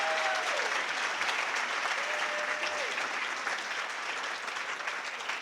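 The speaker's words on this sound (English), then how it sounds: "All right, we have to give one more round of applause to our donors and our" A banquet audience applauds donors and scholarship recipients at an awards evening, steady dense clapping from a large room held for several seconds, fairly faint, with a voice or two over the start.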